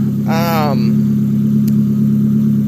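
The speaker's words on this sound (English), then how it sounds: "It runs good. It's throttle responsive. It sounds like it's idling nice." A reassembled Nissan car engine runs at a steady idle, a constant low hum that holds throughout, with a brief voice over it near the start.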